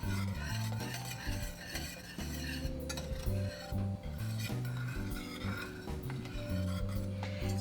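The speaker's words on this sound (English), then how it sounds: "This is over medium-low heat, and we need to whisk continuously." Whisk stirring lemon curd in a pot over medium-low heat, a steady close rhythm of metal clinking and scraping against the pot sides, with a low hum running underneath.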